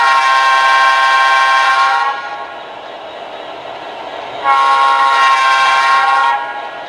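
Horn of an A/F scale SD70ACe model locomotive sounding two long, loud, close multi-tone blasts separated by a short pause, with a low running hum underneath.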